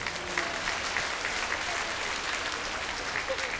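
Audience applause at a public informational assembly, a steady wash of clapping from many hands that runs unbroken and fairly loud from start to finish, with no voices over it.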